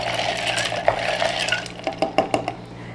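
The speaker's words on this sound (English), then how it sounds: "I'm gonna give that a stir." A spoon stirs ice and lemonade in a pitcher, clinking and rattling the ice, with a run of sharp knocks toward the end; nearby and fairly clear.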